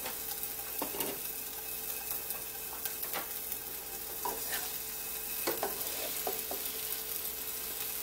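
Salmon fillets laid one at a time face down into a skillet, a steady sizzle and frying hiss with a few sharp spatters and soft thuds as each piece goes in, close with no talking.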